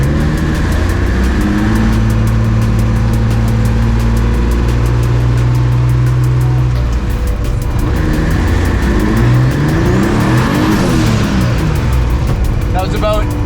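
A turbocharged Mazda MX3 on a snowy road, with a loud interior engine drone that builds into a rising rev as the car accelerates hard.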